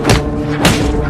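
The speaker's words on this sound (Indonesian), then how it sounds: "Songjin yang sudah terbakar emosi pun tanpa basa-basi menghajar Hisik secara membabi buta." Punches landing in a fight scene, two heavy, close thuds with sharp whooshing attacks, about half a second apart, with no talk.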